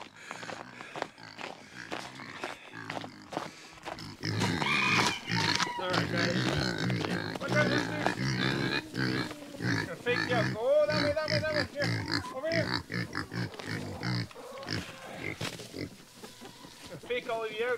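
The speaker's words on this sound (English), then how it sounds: "This is all for the pigs." Farm pigs grunt, squeal and oink close by while being fed, snorting and jostling in bursts alongside rustling and clattering of feed, with a person talking over the animals.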